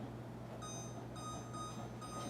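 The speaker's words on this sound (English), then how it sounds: "Let's put a timer on." A kitchen timer is set beside a simmering pot of West African peanut butter soup, giving faint, repeated short bursts of high beeping over a low, steady background hum.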